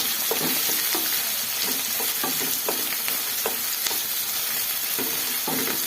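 Jeera rice fries in a pan with a steady sizzle, broken by repeated scraping stir strokes every half second or so, close and fairly loud, with no voices.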